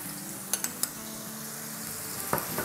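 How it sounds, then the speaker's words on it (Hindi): Crushed ginger and garlic sautéing in a pan for pepper steak, a quiet steady sizzle with a few light clinks of a utensil against the pan. "और इसको सॉटे करेंगे"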